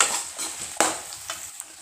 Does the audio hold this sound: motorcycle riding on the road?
no